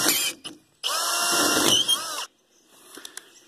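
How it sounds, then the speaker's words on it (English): A hand drill spinning at high speed grinds against metal nubs left from welding, in a short burst, then a longer sustained whine that cuts off abruptly, followed by faint clicks and handling noise. "I'm going to try and use a hand drill on high speed"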